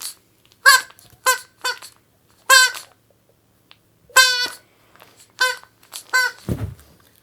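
Repeated high, harmonic squeaks in short bursts, about ten in all, loud and close with pauses between, ending in a lower rough cry, made by a contestant at a banter game show.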